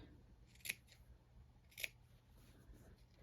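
Two sharp, crisp scissor snips cut into a fabric seam allowance on a sewn tank top, each one close and isolated, with near silence around them.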